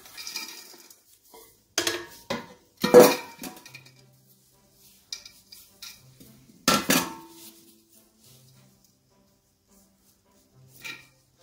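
The remaining ingredients for raisin, walnut and oat cookies are added to a bowl: a few separate clatters and clinks of utensils against the bowl, loud and close, with quiet gaps between them.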